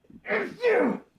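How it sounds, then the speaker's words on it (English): A single close, loud human sneeze in two parts, a sharp intake followed by a forceful burst, heard alone. "that's the first ever on-air sneeze"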